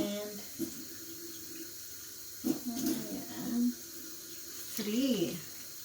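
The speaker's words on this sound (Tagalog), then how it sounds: "Lagyan natin ang 3/4 cup of warm water." Warm water pours into a mixing bowl of chiffon cake batter base with vanilla, a running, splashy trickle heard in short bursts between stretches of talk.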